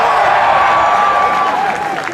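Large crowd at a Ron Paul political rally in Madison, Wisconsin applauding and cheering loudly and steadily, a sustained wash of clapping with a high tonal whistle riding over it, fading slightly at the end.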